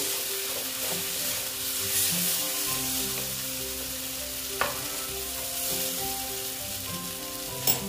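Partly boiled potatoes fry in a pan for a Bengali egg and potato dalna, with a steady close sizzle and stirring scrapes, plus a couple of sharp spatula taps against the pan and no voices.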